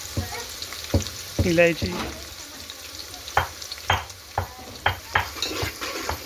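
Garlic, cardamom and garam masala fry for a Sunday biryani, a close sizzle under steady metal clacks as a spoon stirs the pot in a regular rhythm; a single word is spoken briefly.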